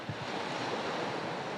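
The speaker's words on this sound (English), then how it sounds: "this is a beautiful beach that we have right by our campground" Ocean surf washes onto a campground beach at low tide, a steady broad hiss of breaking water mixed with wind buffeting the microphone, close and continuous with no voices.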